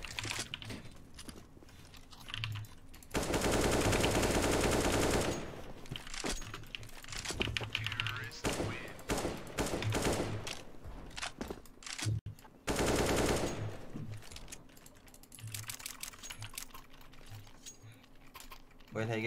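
Bursts of rapid automatic gunfire in a Turkish-language tactical shooter match, loud dense rattling volleys around two separate stretches, with quieter scattered shots and clicks between them under low voice chat.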